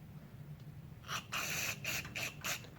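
Cleaner sprayed through the passages of a Briggs and Stratton 799866 carburetor, heard as several short hissing bursts in a row, close and fairly quiet against a low background hum.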